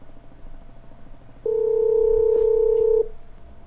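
A single steady telephone dialing tone from a smart touchscreen speaker placing a call sounds for about a second and a half, clear and constant over quiet background noise.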